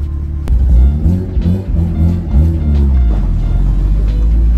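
A rotary-swapped Subaru BRZ with an RX-7 13B engine drives nearby, its low, throaty engine drone rising and falling loudly with throttle changes.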